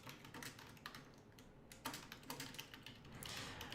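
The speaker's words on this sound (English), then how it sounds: "I should not go quiet as I'm typing." Quiet keystrokes on a computer keyboard patter in an irregular, fairly steady run, fairly faint with occasional slightly harder taps, with no talking over them.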